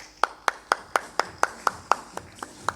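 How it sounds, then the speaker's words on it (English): Clapping for a panel member at a packaging technology discussion: a run of about eleven crisp, evenly spaced hand claps in steady rhythm, close and distinct rather than a dense crowd roar. "Let's give him a huge round of applause."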